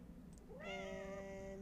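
Cat meowing in the video game Little Inferno: a single drawn-out, rising meow holding steady for about a second over a quiet game background, with no talking.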